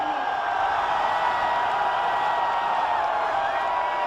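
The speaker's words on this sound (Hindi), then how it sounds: "तालियों की गड़गड़ाहट पूरे देश तक जानी चाहिए" A large crowd applauds and cheers at a ground-breaking ceremony for a new airport in Uttar Pradesh, a steady dense wash of clapping and voices that holds evenly throughout without a break.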